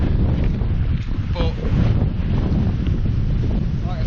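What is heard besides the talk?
strong crosswind blowing at a lake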